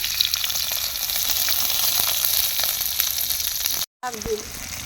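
Mustard oil sizzles hard over chopped onion, garlic and green chillies in a wok, a dense close-up frying hiss with faint crackles that continues nearly unbroken, cut by a brief gap near the end.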